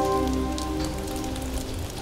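Steady rain pattering on surfaces as a sound effect in a fairy-tale audio play, soaking an amusement park whose carousels drift in grey puddles; a dense, even wash of drops held for about two seconds with a low tonal music bed beneath, no speech.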